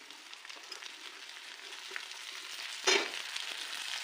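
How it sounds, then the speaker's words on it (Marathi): Chopped okra frying in a pan with chili and garlic, a steady soft sizzle close by, with a brief louder hiss and clatter as the okra goes in near the end. "आता आपण जी बारीक केलेली भेंडी आहे ना ती यामध्ये टाकून घेऊ."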